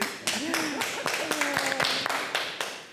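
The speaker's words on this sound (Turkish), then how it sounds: "bir moral alkışı iyi geldi arkadaşlarınıza" Applause at a televised marriage quiz game show: a burst of clapping from the studio audience, broadband and steady across about three seconds, with a host's voice and other talk running over it.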